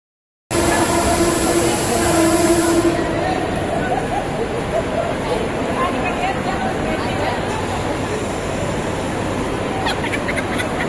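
Loud, continuous rumble and clatter of a train in motion bound for Mumbai CST, heard from inside or close by, with a constant roar throughout.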